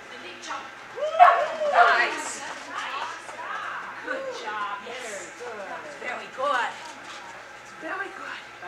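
Dogs yip, whimper and bark in quick playful bursts as they romp together outdoors, close by, with a person talking over and between the sounds.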